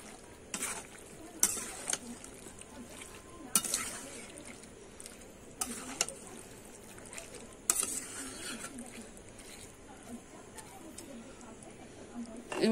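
A spoon stirs jackfruit and prawn curry after ghee and garam masala go in, giving scattered scraping clinks and soft sizzling under steady speech.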